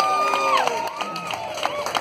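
At a tribute band concert, the audience cheers for the drummer with whoops, whistles and a few scattered claps. The reaction is moderately loud and lasts a couple of seconds.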